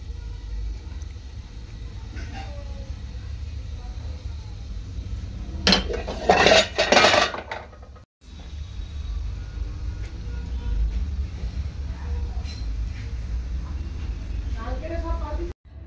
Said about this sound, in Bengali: তো সয়াবিনটা আমি এখন ঢেলে নেব।